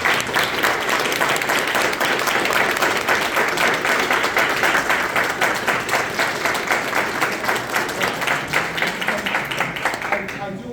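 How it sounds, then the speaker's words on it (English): Sustained applause from attendees at a county school board meeting honoring student wrestlers and their coaches, steady dense clapping filling the room for about ten seconds and tapering slightly at the end. "So I think we should give them and their coaches another round of applause."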